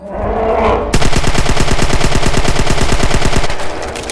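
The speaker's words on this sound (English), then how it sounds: "look what happens when I start shooting with a Sten" A Sten submachine gun fires in a video game, a loud, rapid burst of evenly spaced shots lasting under three seconds, coming just after a short hollow whoosh.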